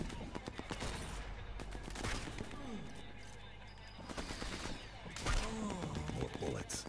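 Sniper rifle shots and scattered gunfire in Sniper Elite 4 on PS4, a few sharp cracks spread through the clip under steady game noise and a talking voice.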